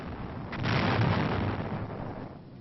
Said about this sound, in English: His strength has been sapped by steady aerial strikes. And heavy artillery barrages.